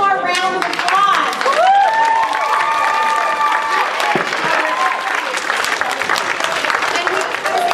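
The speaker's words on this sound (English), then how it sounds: "let's give one more round of applause" Loud, sustained applause from a theater festival audience, with cheers and shouts rising over steady clapping that carries on for several seconds.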